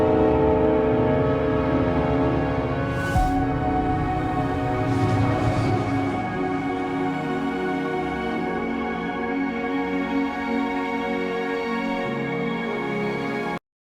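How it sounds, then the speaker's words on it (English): A train horn sound effect blares continuously for about thirteen seconds, loud and sustained with rich layered tones, then cuts off abruptly into silence. "We are now hearing a train horn sound effect"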